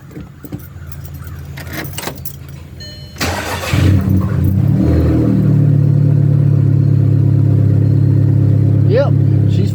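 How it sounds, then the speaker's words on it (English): A Volkswagen GTI engine cranks briefly, catches and settles into a steady, loud idle that continues to the end, following a quiet stretch of small rustles and key jingles. "let's see if this daggone thing will fire up for me"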